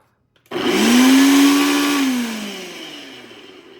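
A Ninja NutriPro blender whirs loudly up to speed blending a smoothie, its motor holding a steady high pitch for a few seconds before easing down and tapering off.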